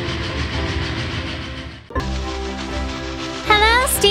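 A train rumbles steadily along the track, with a sharp jolt partway through and rising whistle-like tones near the end.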